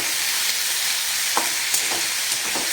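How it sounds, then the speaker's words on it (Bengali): Potato pieces frying with salt and turmeric in a pan make a loud, continuous sizzle close up, with a few faint clicks from stirring near the end. "আলু ভাজা আস্তে আস্তে হতে থাক"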